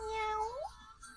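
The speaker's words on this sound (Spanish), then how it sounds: "El gato habla así." A cat gives a single close meow, a clear tonal cry that rises and then falls away, heard alone over quiet background.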